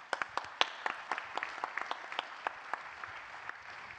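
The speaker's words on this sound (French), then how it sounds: "Je crois qu'on peut l'applaudir pour ça." Scattered applause for Enrico Letta from a small debate audience, with distinct individual claps standing out over a softer background patter, moderate and a bit distant.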